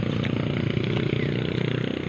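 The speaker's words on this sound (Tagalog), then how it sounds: "kalampag ang motor" Motorcycle engine running steadily nearby with a loose, clattering rattle pulsing through its uneven idle, fairly quiet and continuous.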